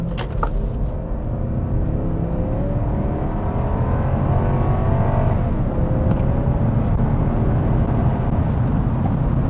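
A 2001 Lexus GS 430 with its 4.3-litre V8 accelerates hard from inside the car, the engine note rising steadily as it pulls through the gears. The steady, full-bodied roar continues without talk.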